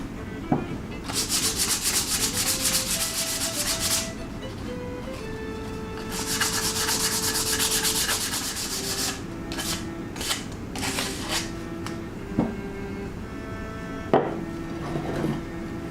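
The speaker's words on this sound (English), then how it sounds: "Don't want to scar up the top of my ship while I'm sanding the other side of it." Sandpaper rubs back and forth on a wooden model pirate ship in long, rasping close strokes, broken by pauses, light knocks and handling clatter.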